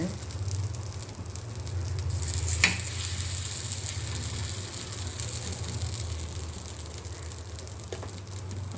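Drumstick-leaf adai fries in oil on a dosa griddle with a steady, even sizzle and hiss, broken once by a single sharp metallic clink.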